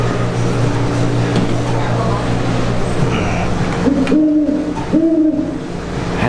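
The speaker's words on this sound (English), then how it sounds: "That's an owl." At a Ripley's Believe It Or Not attraction in Gatlinburg, Tennessee, an owl's hoots sound as two short, clear tonal calls near the end, over a steady indoor hum with voices talking.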